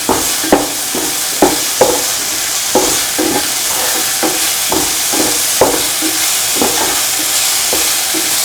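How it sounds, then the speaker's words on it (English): Spoon scrapes rhythmically through a sizzling onion, tomato, garlic, ginger and green chili mixture with garam masala and salt in a pan, steady close strokes over continuous frying hiss. "Put in a spoon of garam masala, mix everything."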